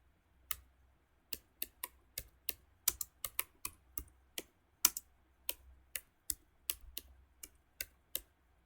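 Keystrokes on a computer keyboard as a SQL create table command is typed, a string of about twenty crisp, close clicks in an uneven rhythm over near silence.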